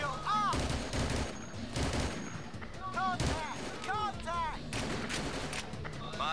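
Rapid bursts of automatic gunfire in the Battlefield 2 combat game, repeated shots close and loud, interleaved with voices talking over the battle.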